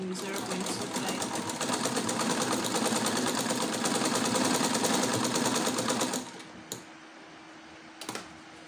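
Sewing machine stitching a seam on a drum sleeve at a quarter-inch allowance, a fast steady rattling whir running for about six seconds before stopping, followed by a couple of soft clicks and handling noises.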